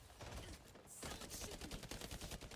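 Rapid gunshots in a shooter video game, a dense, fast string of shots that runs throughout, faint overall with a brief dip near the start.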